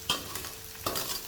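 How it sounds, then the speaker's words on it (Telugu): Chopped ginger, garlic and carrot sizzle in hot oil in a pan, a steady close frying hiss with two stirring scrapes, no talking. "నూనెలో ఒక 2 నిమిషాలు వేగనివ్వాలి."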